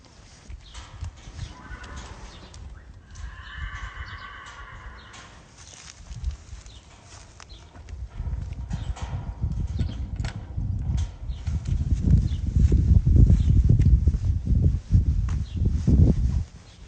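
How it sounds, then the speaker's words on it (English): Thoroughbred foals and brood mares moving about on a breeding farm, hooves clip-clopping and shuffling nearby, growing louder and heavier toward the end, with a brief whinny-like call early on. "This foal, he's by Bernardini."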